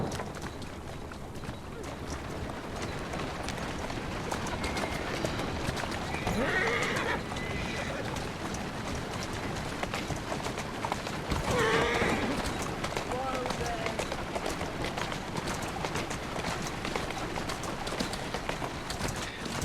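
A horse's hooves clip-clop along the streets of Victorian London in Assassin's Creed Syndicate, with neighs rising above the hoofbeats and someone talking over it.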